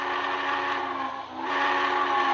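A model train's steam whistle, running on DCC, blows a sustained multi-tone chime that dips briefly midway before swelling back louder, heard alone and fairly close.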